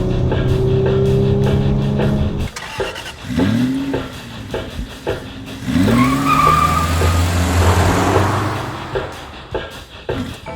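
A 2018 Audi S4 (B9) drives hard on a winding canyon road, its engine loudly revving up through the gears with repeated rising pulls, brief drops between shifts, and a sustained roar close by.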